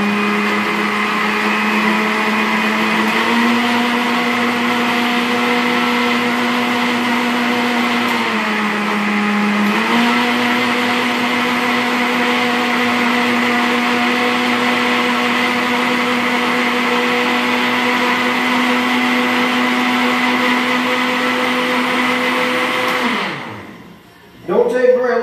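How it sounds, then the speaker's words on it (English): Electric blender motor runs at a steady, loud drone, briefly dipping in pitch midway, before cutting off near the end. "Turn my blender on. Get it blended up here a little bit."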